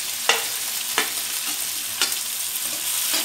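Tomatoes, green chilies, curry leaves and ginger paste fry in a pan with a soft, steady sizzle, punctuated by a few sharp clinks of a utensil against the pan.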